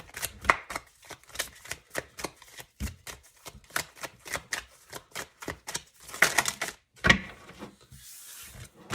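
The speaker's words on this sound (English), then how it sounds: "I'm just going to keep shuffling until we can pull out 1 or 2 more cards" Tarot cards being shuffled in quick, crisp bursts of riffling and tapping, close by, with a brief softer rustle at the end.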